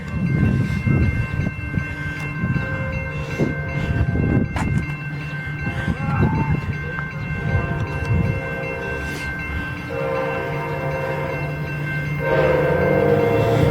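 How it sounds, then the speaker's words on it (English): A passenger train led by a Siemens Charger locomotive, a Lincoln Service train, rumbles past nearby in Girard, Illinois, with steady clattering wheels and engine drone, and a horn sounds partway through; a person speaks briefly. "Our second train of the day was a Siemens Charger with either the 301 or the 302 Lincoln service train."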